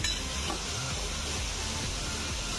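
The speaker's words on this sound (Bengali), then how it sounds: "তিন মিনিট আমি ভালো করে একটু কষিয়ে নিলাম" Bengali bhetki fish curry base with potato being fried and stirred in a pan, a steady close sizzle with soft scraping stirs and a hiss of steam, no talking.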